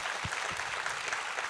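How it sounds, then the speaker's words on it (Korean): A church congregation at Sunday worship claps briefly, a faint, distant patter of applause over room noise. "우리 하나님 앞에 큰 감사와 영광의 박수 올려드리겠습니다"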